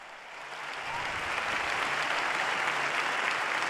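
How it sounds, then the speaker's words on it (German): A vast open-air crowd at a papal Mass in Lisbon during World Youth Day 2023 applauds volunteers, a dense, sustained roar of distant clapping that swells slightly and holds steady throughout. "Sie verdienen diesen Applaus"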